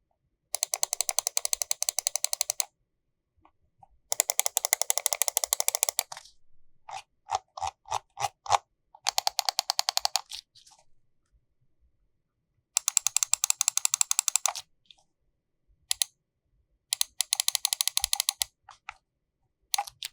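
Crisp, dry clicks from the buttons of an Ajazz AJ199 budget gaming mouse, fired in rapid bursts and in single taps with short silent gaps between them, close up and alone.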